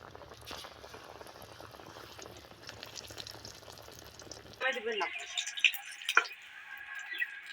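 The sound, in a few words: eggplant (brinjal) frying in a pan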